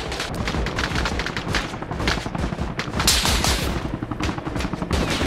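Heavy covering fire in the military shooter Arma Reforger: rapid overlapping rifle and machine-gun bursts, loud and near, cracking continuously with no break across the whole stretch.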